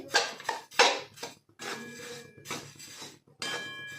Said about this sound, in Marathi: तर कढई घेतली, त्यात ना आपण मागच्या वेळेस ना यूज केलेलं मीठ घेतलंय